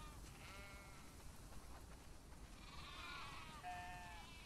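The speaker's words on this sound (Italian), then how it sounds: "Wow, sono tantissime pecore." Sheep bleat inside a barn in the video game The Last of Us Part II: a few faint, wavering calls from a flock over a low, steady ambient hum.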